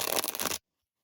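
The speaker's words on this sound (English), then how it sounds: "when you shuffle your cards the standard way" A deck of tarot cards is shuffled the standard way in one brief burst of riffling clatter, close by, then stops dead into silence.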